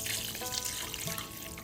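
Tap water pours steadily into a cup in a home kitchen while a cake batter is being made, a continuous close splashing trickle with no talking.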